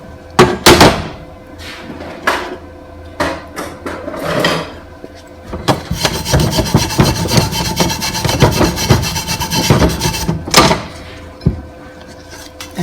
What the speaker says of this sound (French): Un petit coup de brosse pour que ça soit plus clair.